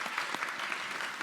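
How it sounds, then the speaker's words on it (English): Applause from a convocation audience fills the hall, a steady dense patter of many hands clapping throughout the short moment, with no voices over it. "You guys give Cayman an applause if you don't mind."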